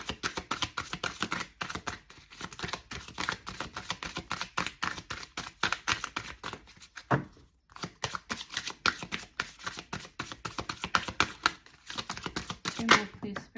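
Tarot cards being shuffled and drawn by hand, a dense, continuous run of close crisp riffles and flicks that pause briefly midway and then resume.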